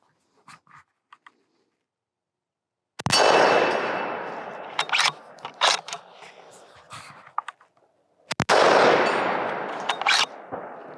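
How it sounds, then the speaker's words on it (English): A Howa 1500 Mini Action rifle fires two sharp, loud shots several seconds apart outdoors at a steel plate, each with a long echoing tail, followed by bolt and handling clicks in between. "It really doesn't prove anything, but at least you see the rifle shoot."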